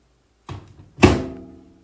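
A microwave door swings and shuts with a solid thunk, preceded by a softer click, close and brief in a quiet room.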